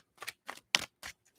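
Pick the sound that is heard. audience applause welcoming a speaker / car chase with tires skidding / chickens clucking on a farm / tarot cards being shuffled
tarot cards being shuffled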